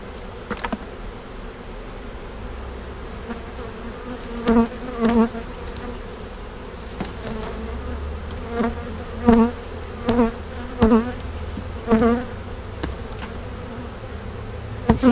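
A honey bee swarm buzzes steadily around a hive during a move to a new hive, a dense insect drone running throughout with several louder bursts as bees pass close by.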